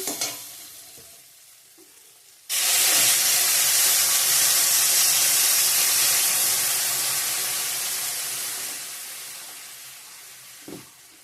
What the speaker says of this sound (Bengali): আবার গরম জল অ্যাড করে দিয়ে দেবো এখন